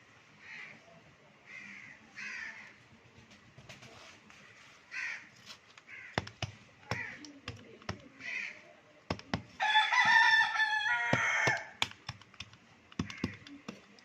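A rooster crows in bursts alongside sharp clicking knocks, fairly faint and distant in a quiet outdoor setting, with a louder drawn-out crow near the end.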